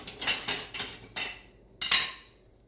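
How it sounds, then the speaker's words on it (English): Wire whisk clinking against a pan while stirring a milk sauce for creamed chipped beef, four sharp metallic scraping bursts at a loose rhythm, close and fairly quiet, with no talking. "and then we'll whisk this in."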